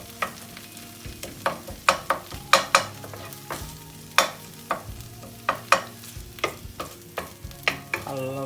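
Tomatoes cook in a pan for a spicy borlotti bean dish, with a soft sizzle under a series of sharp clinks and scrapes as the mixture is stirred, close and fairly quiet.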